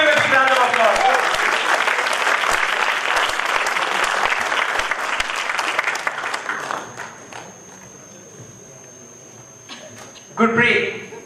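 At a Toastmasters club meeting, an audience claps loudly and steadily for several seconds, then the applause thins and fades out, leaving a quiet room before a short burst of sound near the end.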